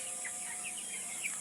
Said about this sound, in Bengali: আপনারা দেখতে পাচ্ছেন মাচার উপরে মুরগি পালন।